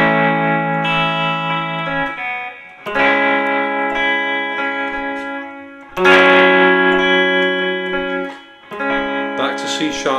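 Electric guitar played slowly through effects, chords ringing out in three sustained phrases with reverb and chorus, fairly loud and close, with no talking.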